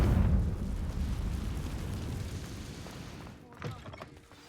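A Confringo fire spell from the Hogwarts Legacy video game erupts in a loud, rumbling explosion that roars heavily at first, then slowly fades, followed near the end by a short pop and sharp crackle.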